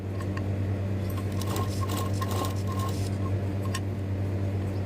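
A sewing machine stitches along a boot at a sewing and fashion design lesson, a steady close mechanical hum with small clicks and rattles throughout, no talk.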